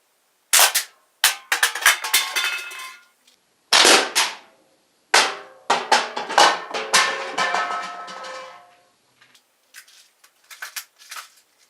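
A gun fired at aluminum cans: a series of sharp, close cracks, some singly and some in quick bursts, with short ringing tails and pauses between volleys, fainter pops trailing at the end.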